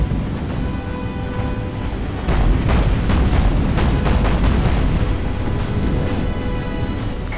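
Warship guns firing in the naval combat game Battlestations: Pacific, a continuous rumbling barrage of heavy booms that swells louder partway through and keeps rolling without pause.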